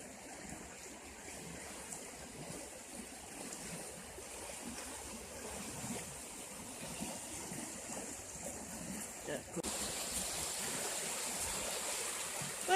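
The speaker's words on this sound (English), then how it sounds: "that's our creek" A creek flows steadily with a continuous rushing, babbling wash that holds close and even throughout, growing slightly brighter and fuller toward the end.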